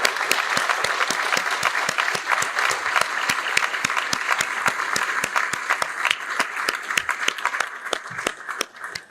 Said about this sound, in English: Give yourselves a round of applause, too.